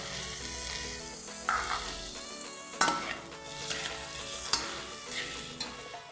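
Chopped onion and tomato frying in a pan with salt for a spicy Bhola bhetki fish curry, a constant loud sizzle broken by irregular scraping stirs and a few sharp utensil knocks against the metal.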